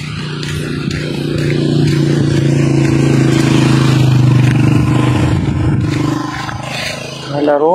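Motorcycle engine droning close by as the rider passes a landslide area, steady then fading, with a voice speaking near the end.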